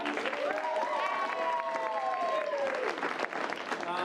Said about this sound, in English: Give these 3 a round of applause.